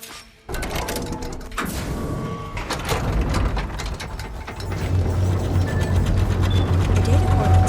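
A heavy mechanical door grinds open in the video game Horizon Forbidden West, with loud ratcheting gears and a rising rumble that swells and holds steady.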